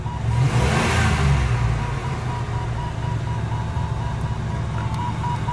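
A Chrysler Cordoba with its air cleaner disconnected idles steadily at an auction, a loud close engine rumble that swells briefly at the start as it drops hard into gear, then settles into an even running drone.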